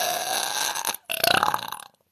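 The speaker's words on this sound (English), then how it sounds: "when I get a monster burp, I will try to do" A loud, drawn-out monster burp sounds up close, with a short break before it rumbles on again and then ends.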